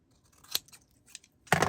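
Scissors trimming small white paper scraps thinner, with two crisp snips, a lighter cut first and a louder, fuller one at the end, heard up close and alone.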